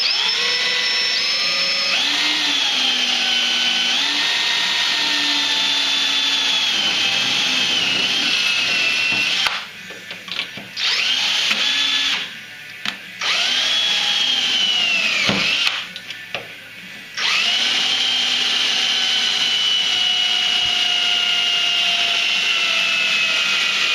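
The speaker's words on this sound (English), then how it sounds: "We're going to drill out these 3 holes." A power drill bores out three holes in an aftermarket aluminum airframe running board fitted tight against the tunnel of a Polaris Pro RMK snowmobile. The drill whines loudly and close, in long sustained runs with short pauses between holes.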